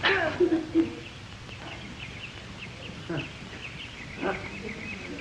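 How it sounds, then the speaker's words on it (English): Bird calls chirp repeatedly through a radio-like broadband hiss, with people talking and moving nearby. "I'm going to listen to a little bird program."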